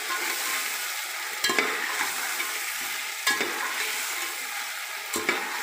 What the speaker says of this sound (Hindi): इसको भून, चिकन को भून